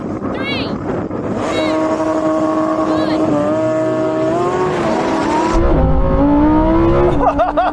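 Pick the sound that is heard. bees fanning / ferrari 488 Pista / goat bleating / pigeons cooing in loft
ferrari 488 Pista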